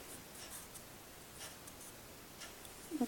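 A pencil scratches softly across paper while a cartoon pony is sketched, giving a faint continuous rasp with a few light strokes and a small tap at the end.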